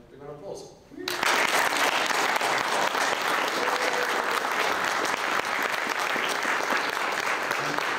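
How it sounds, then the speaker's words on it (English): A fan audience at a Denver Comic Con Star Trek art department panel breaks into loud, sustained applause after a brief moment of talk, the clapping continuing dense and even to the end. "Everyone, give a big round of applause."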